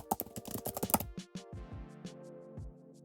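Rapid light taps on an iPad on-screen keyboard while an address is typed, a quick flurry of close clicks that slows into a few spaced taps, with no voices.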